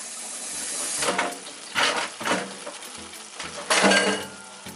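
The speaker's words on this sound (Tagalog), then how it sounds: "in this video I'm cooking beef broccoli with carrots." Beef, broccoli and carrots fry in a pan, a soft continuous sizzle punctuated by about five louder bursts of stirring and utensil clatter, heard close without speech.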